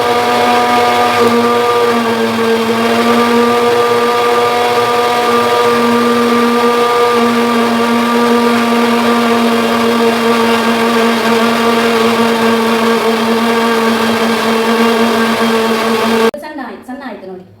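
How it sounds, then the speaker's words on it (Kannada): A loud kitchen mixie (mixer grinder) runs steadily and close up for about sixteen seconds with a strong droning whine, then cuts off abruptly near the end. "ಇದರ ಸೌಂಡಿಗೆ ಇಲ್ವಾ ಎಲ್ಲರೂ ಓಡಿ ಹೋಗ್ಬೋದು ಅಂತ ಒಂದು ನಮ್ಮದು ಮಿಕ್ಸಿ"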